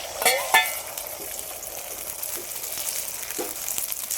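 Egg omelette batter frying in hot oil in a kadai, a crackling sizzle that flares as it hits the oil, with a few faint utensil taps and no talking.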